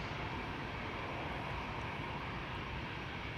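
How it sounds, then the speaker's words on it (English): An ITA Airways Bombardier C Series 300 (A220-300) jet departs Amsterdam Schiphol. The sound is a faint, distant, steady engine hiss and rumble that holds at one level throughout, with no voices over it. "Ita Airways flight 121 to Milan, Bombardier C Series 300, or as they're called these days, A220 300s."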